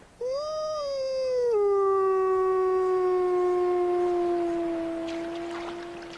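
A single wolf in Yellowstone gives a long, clear howl that rises, holds a steady tone and slowly fades, with faint background sounds near the end.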